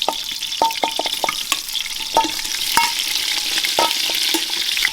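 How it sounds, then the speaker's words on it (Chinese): Pork ribs are stir-fried with scallion and ginger in a hot clay pot, with a loud continuous sizzle punctuated by sharp, irregular clacks of the spatula against the pot. "然后把排骨给它倒进来炒一下"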